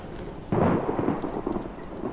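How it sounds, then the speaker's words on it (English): Thunder booms during a lightning storm in the horror game Outlast: a sudden loud crack swells into a long rolling rumble over steady rain. "Freaking lightning."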